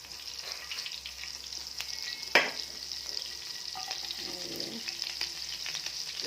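Chopped garlic frying in butter in a pan, destined for a broccoli stir-fry, gives a steady soft sizzle throughout, with a sharp utensil scrape near the middle and a few small crackles after.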